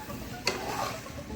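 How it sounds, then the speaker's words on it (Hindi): Honey chilli potato fries are tossed and mixed in a pan, making a soft, quiet stirring rustle with one sharp utensil click partway through. "अच्छे से ऊपर नीचे करके पूरा मिक्स कर लेंगे"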